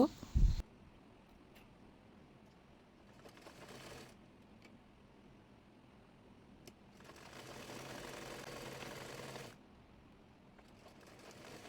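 Sewing machine stitching fabric tie strips for a hijab, with quiet bursts of rapid mechanical whirring, the longest run near the end, separated by pauses.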